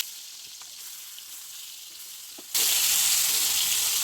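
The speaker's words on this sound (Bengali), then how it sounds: "তো তেলটা গরম হলো, মাছগুলো আমি এখন দিয়ে দিব।" Rohu fish pieces drop into hot oil in a frying pan, and a quiet background suddenly gives way to a loud, continuous, close sizzle that holds steady.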